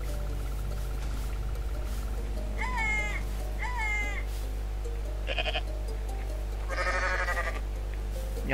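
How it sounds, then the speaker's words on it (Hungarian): Goat in the Goat Simulator video game bleating several times in short wavering cries over a constant low electronic hum, loud and close with no talking. "Ott van még egy kecske."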